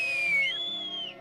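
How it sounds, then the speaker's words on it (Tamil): A loud, clear whistle, sliding down and then rising in a long sweeping tone, heard alone for just over a second in a Tamil-dubbed Heidi cartoon scene. "சத்தமா விசில் அடிக்கவும் கத்துக்கிட்டேன்"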